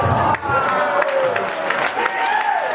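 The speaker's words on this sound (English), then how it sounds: "I don't really deserve that applause" A wedding crowd cheers and applauds loudly, a dense close roar of clapping and shouts sustained throughout with a few whoops rising above.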